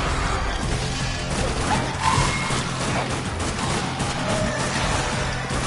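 Rifle fire in the zombie shooter video game Dead Nation, a loud, continuous barrage of shots and crashing impacts without pauses.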